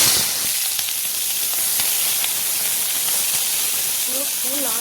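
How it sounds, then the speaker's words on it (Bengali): Cauliflower and carrot fry in mustard oil in a wok, giving a steady broadband sizzle and hiss throughout, with a brief voice-like tone near the end. "এই যে ফুলকপি আর গাজর ভেজে নেব।"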